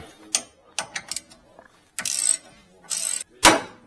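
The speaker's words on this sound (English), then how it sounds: "now I need to pop the idler arm from the relay link over here, so I use this puller right here" On a GMC truck, a puller is worked to pop the idler arm off the relay link, giving short bursts of ratcheting clicks and metallic grinding, ending in a sharp loud crack.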